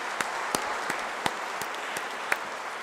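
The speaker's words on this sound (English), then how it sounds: "please give them a big clap." Audience applause at an endowment lecture series, a dense, steady wash of clapping from a sizeable crowd with a few sharp individual claps popping out above it.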